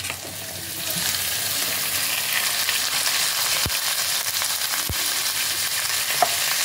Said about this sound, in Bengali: এই সমস্ত কিছুকে একসাথে আবারও ভালো করে ফ্রাই করতে হবে।